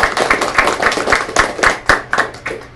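An audience claps for a commissioner at an airport commission installation ceremony, with sharp, distinct hand claps in a loose, uneven rhythm from a modest crowd, close and fairly loud, with no one speaking over it.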